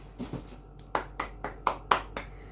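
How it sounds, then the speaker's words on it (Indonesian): Students in a classroom clap after a teacher's quiz on the water cycle, a sparse handful of distinct sharp claps with uneven spacing, fairly quiet. "Tepuk tangan"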